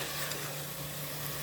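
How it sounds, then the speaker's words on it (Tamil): Chopped big onions, small onions and tomatoes sautéing in a pan for a country-chicken gravy, a soft continuous sizzle and hiss, steady and fairly faint, with no talking. "ரெண்டு பெரிய வெங்காயம், ஒரு 20 சின்ன வெங்காயம் அரிஞ்சு, 2 தக்காளியும் அரிஞ்சு இதில் போட்டு வதக்கிக்க வேண்டியதுதான்."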